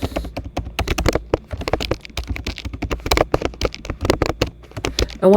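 Quick, close typing on a computer keyboard while filling in a university scholarship application form, a dense stream of crisp key clicks with brief pauses and no talking.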